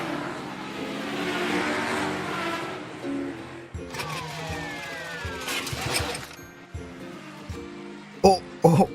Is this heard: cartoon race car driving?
yes